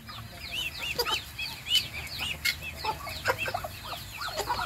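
Chickens cluck and chirp nearby, a busy stream of short, high, repeated calls over low background noise, with no talking.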